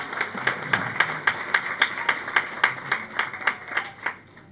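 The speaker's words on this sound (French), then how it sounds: "Applaudis pour toi-même." A church congregation clapping in unison, a rhythmic series of about fifteen sharp, evenly spaced claps at a brisk pace that fades out at the end, with faint room murmur underneath.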